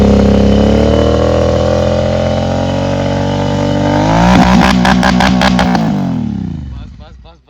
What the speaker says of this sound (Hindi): अब थोड़ा सा RPM बढ़ाएंगे।